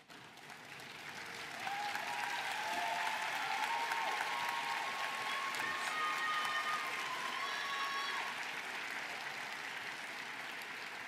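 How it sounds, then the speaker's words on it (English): Sustained applause from an audience at a virtual graduation commencement ceremony, rising after a second and holding steady and dense for about ten seconds, with no talk over it. "Please stand and give a round of applause to those who gave you unwavering support along the way."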